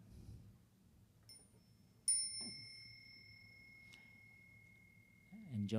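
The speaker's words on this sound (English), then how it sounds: "When you hear the small sound of the bell" A small bell struck at a Buddhist mindfulness retreat gives a clear, ringing tone that lingers and fades slowly, with softer chimes before and after, over a quiet room with faint background talk.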